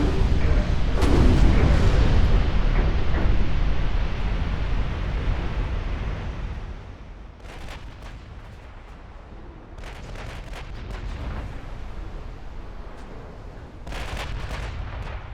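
Battleship gun salvos from Ultimate Admiral: Dreadnoughts, heavy booming blasts that roll into long rumbling decay, followed by several sharper, quieter shots spaced out over the later seconds.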